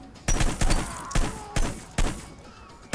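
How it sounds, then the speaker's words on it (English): Pistol shots in a video game, about six single sharp cracks at uneven intervals roughly half a second apart, loud and near, with no talking. "But I'm still gonna use the pistol."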